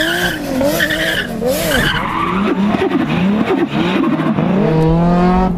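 A 2JZ-powered Nissan 200S drifts sideways at a gymkhana, tyres squealing in wavering skids over the loud, revving engine as the car slides.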